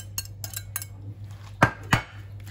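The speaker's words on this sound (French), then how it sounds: "Je mélange tout." Spoon or utensil clinking and scraping against a baking dish while zucchini, onion and chicken are stirred together: a few light taps, then two sharper knocks, over a steady low kitchen hum, no talking.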